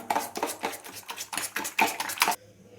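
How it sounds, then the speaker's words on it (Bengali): A utensil stirs flour into a pumpkin cutlet mixture in a bowl, making quick, rhythmic scraping and clinking strokes at close range before stopping abruptly. "ভালো করে ময়দাটা কিন্তু মেশাতে হবে যেন লাম্প না ক্রিয়েট হয়।"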